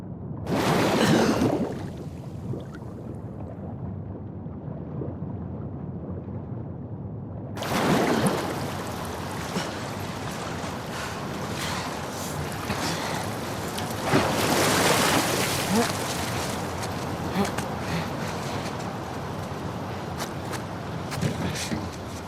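Fast-flowing torrent of water in the Seattle sewers of The Last of Us Part II, a steady broadband rushing roar after a short surge and a lull, continuous and loud with swells of churning spray.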